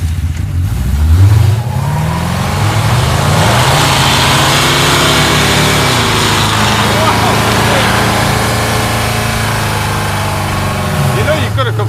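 A 1940 Ford's boosted engine runs steadily after its belts are refitted, a loud continuous rumble with a brief rev near the start and slight pitch shifts, close by throughout.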